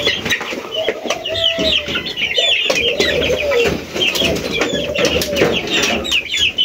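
Chicks peep steadily while they are fed chick feed mixed with rice. The chirping is dense and overlapping, close and fairly loud, with a soft clucking and a low background hum underneath.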